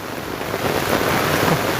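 Heavy, dirty floodwater rushing strongly after a downpour, carrying trash along; a steady, loud, broadband roar of churning water, continuous and close, with no voices.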